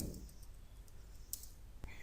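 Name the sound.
typing on computer keyboard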